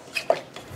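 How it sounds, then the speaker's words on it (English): A few brief clinks of a utensil against a bowl while a large egg is stirred into pineapple cream cheese cookie dough; faint, quick taps with no talking. "We're just gonna mix that all in together."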